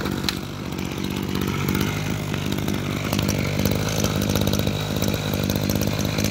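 Tanaka chainsaw engine running steadily, a close, loud two-stroke buzz with a rapid rattling pulse throughout, alone without speech.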